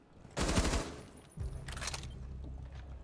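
Video-game gunfire in two loud bursts, a dense rapid volley near the start and a second sharp volley later, backed by a low rumbling game soundscape with no talk.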